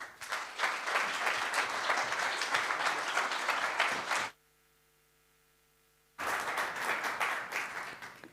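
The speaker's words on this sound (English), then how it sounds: "So please, big round of applause for Boaz." A conference audience claps for a speaker, a full, steady round of applause that cuts to near silence for about two seconds, then resumes just as strongly.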